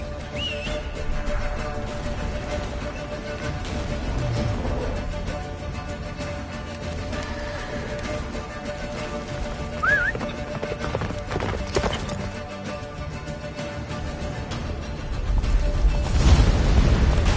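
Rapid hoofbeats of a horse galloping in The Witcher 3, racing through a blizzard toward a fortress, sound steadily and close over ambient game music and wind, with a brief whinny and low rumbles near the end.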